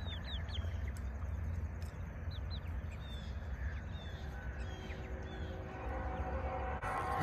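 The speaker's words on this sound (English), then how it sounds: "This is our meat chickens." Meat chickens cluck and squawk in short bursts over a steady outdoor background, the calls fairly faint and scattered throughout.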